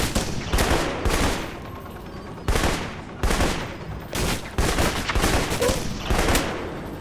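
Repeated explosive bursts from grenades and gunfire in the Alpha Protocol video game come in several loud, broadband blasts with short gaps between them, with no voices over them.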